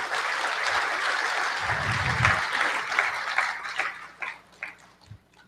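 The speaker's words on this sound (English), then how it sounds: "That alone deserves a round of applause" An audience at a lecture on mountain formation applauding for a speaker, a sustained roomful of clapping that holds steady, then tapers into scattered individual claps.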